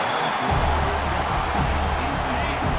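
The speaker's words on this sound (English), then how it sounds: "Listen to the crowd energy here in the early going." Stadium crowd roar in College Football 26 during a Miami versus Florida State game, a dense continuous wash of cheering noise filling the space, loud and steady throughout.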